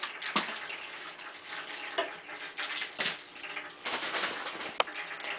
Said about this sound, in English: That noise you're hearing is the water fountain, which is running out of water.